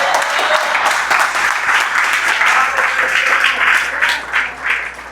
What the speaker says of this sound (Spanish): Dale un aplauso a Cristo, por favor.